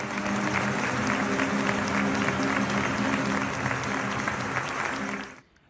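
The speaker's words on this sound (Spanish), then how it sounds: "acompañados por una ovación" A large outdoor crowd gives a sustained, loud ovation at a fireworks celebration opening a vigil, dense steady clapping and cheering filling the whole stretch before cutting off abruptly at the end.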